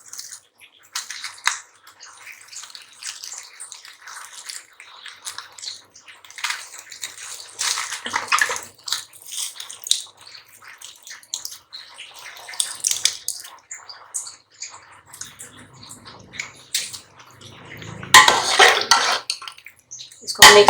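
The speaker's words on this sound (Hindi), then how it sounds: "दही को हम फेंट के यूज करेंगे।" Yogurt (dahi) being whisked in a bowl while cooking chicken reshmi handi, heard as a continuous clatter and scrape of utensil against the bowl with watery sloshing, nearby and moderately loud, without talk.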